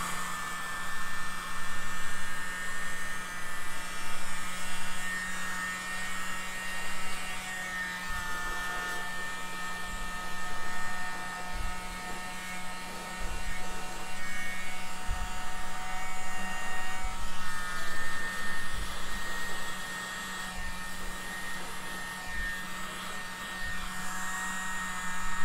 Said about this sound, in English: You know, I'm just a sucker for my mini blower.